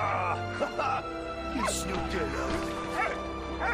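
A dog in the video game Soldats Inconnus: Mémoires de la Grande Guerre, reunited with its master, gives short excited yips and whimpers, close and repeated, mixed in with someone talking.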